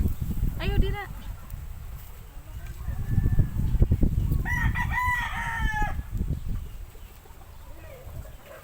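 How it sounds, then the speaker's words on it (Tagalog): Rooster crowing among chickens at a rural home, with two loud, drawn-out crows, one early and a longer one midway, over clucking and background noise while people talk nearby. "May mga manok."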